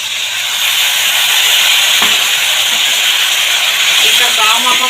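Water poured into a hot pan of fish curry sets off a loud, broad steaming hiss that fills the whole stretch, with faint clinks of cooking underneath.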